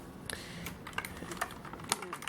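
Fingers type on the keys of a Rosewill RK-6000 mechanical keyboard, producing a quiet, irregular run of crisp clicks heard close up with no talking.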